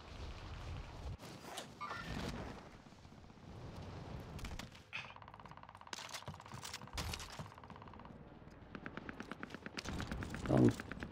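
Video-game gunfire in Call of Duty on the Fortune's Keep map crackles in intermittent bursts and rapid strings of shots, mixed with mechanical clicks and other game sounds, with a player's voice occasionally heard.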